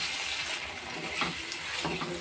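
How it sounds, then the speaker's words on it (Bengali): Water splashes into a pan of spiced potatoes cooking with mutton fat, a steady hissing pour with soft sizzling close by, no voices. "একটু জল দিলাম।"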